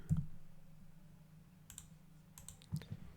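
Quiet clicks and taps of a computer keyboard being typed on in a calm, hushed setting, with brief louder clusters near the start and end.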